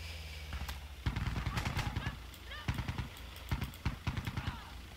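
Gunfire in the video game Insurgency Sandstorm, with rapid automatic bursts and single shots cracking in uneven clusters while players talk over the shooting.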